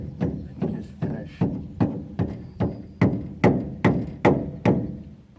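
A hammer handle taps a gear the last distance onto its shaft, about a dozen close, evenly spaced thuds in a steady rhythm, each a short dull knock, with no talking.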